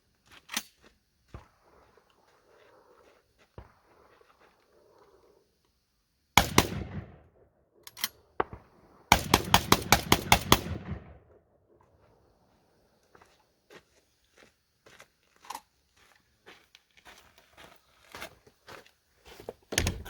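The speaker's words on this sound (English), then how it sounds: "This is going to be 10 rounds alternating buckshot and low brass birdshot." A Black Aces FD12 bullpup 12-gauge shotgun fires alternating buckshot and low brass birdshot: sharp loud blasts, one isolated and then a quick run of shots, between quieter clicks and handling noises, with no talking.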